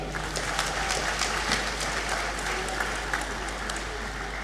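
Sustained applause from a large audience in a great hall at a university graduation ceremony, a steady dense patter of clapping heard from a distance.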